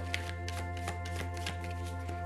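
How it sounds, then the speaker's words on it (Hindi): Tarot cards are shuffled by hand in a quick run of papery riffles and soft slaps, close and rhythmic, over a steady low background hum. "तो शफल कर लेते हैं कार्ड्स टॉरस, वृषभ राशि के लोगों के लिए।"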